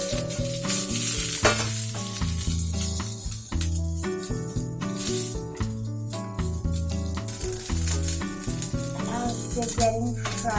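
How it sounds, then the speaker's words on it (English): Cauliflower pieces stir-fry in a hot pan for vegan pasta, giving a steady, dense sizzle with occasional stirring. Prominent tonal background music plays throughout. "As they're getting fried, I'm trying to turn the sides so that they get cooked evenly."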